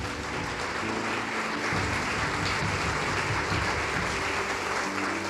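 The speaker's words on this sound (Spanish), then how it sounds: "¿Cuántos aplauden al Señor?" A church congregation applauds during a worship service, a steady wash of clapping from many hands held evenly for several seconds, with low musical tones underneath and no clear voices.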